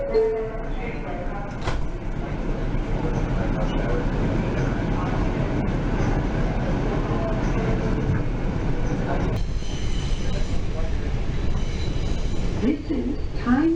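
A New York City subway 5 express train on the 7th Avenue line rumbles and roars steadily as heard from inside the car, with a brief squeal near the end and a recorded announcement voice.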